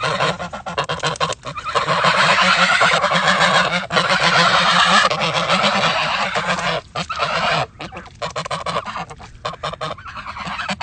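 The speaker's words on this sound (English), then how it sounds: "so there's the old geese" A flock of geese honks loudly and close by, with dense, overlapping nasal calls pouring out almost continuously and broken by a few short pauses, with no voices over them.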